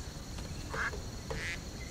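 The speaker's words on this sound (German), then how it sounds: "Eine Ente, schau, wie lieb." A duck in the fantasy role-playing game Risen 3: Titan Lords gives two short nasal quacks close by, over a soft steady ambient background.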